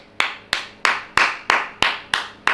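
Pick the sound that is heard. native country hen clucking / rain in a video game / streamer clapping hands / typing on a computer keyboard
streamer clapping hands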